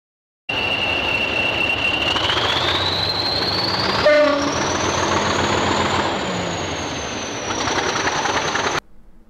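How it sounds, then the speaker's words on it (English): A British Rail Class 40 diesel locomotive rumbles past with a loud whining engine tone that rises and shifts, wheels clattering on the rails, then cuts off abruptly. "And the correct answer is A, Class 40."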